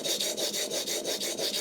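Hand tool blade stroked back and forth on a sharpening stone to remove the burr, rapid even rasping strokes about five per second, close and alone.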